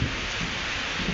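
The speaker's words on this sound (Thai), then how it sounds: "ฝนตกใส่ตอนเที่ยงพอดี" Rain falls at midday in a steady, dense hiss with a low rumbling undertone, loud and continuous, with no voices.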